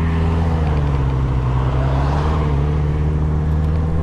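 An Audi car passes close by on a road, a loud steady engine rumble swelling slightly through the middle, with no talk.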